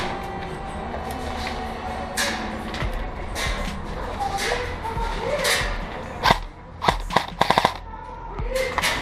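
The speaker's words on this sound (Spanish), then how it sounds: "Me disparan, me suprimen." Airsoft guns fire during a skirmish game, with scattered single shots early on, then a rapid burst of sharp cracks, and voices calling out over the action.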